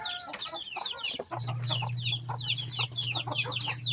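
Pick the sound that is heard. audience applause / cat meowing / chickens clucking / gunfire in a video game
chickens clucking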